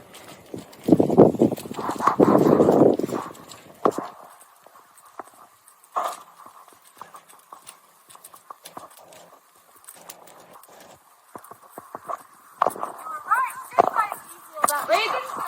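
A horse canters over poles in an arena, its hooves thudding in a loud rhythmic burst and then lighter, more scattered beats, while a rider or instructor talks over parts of it.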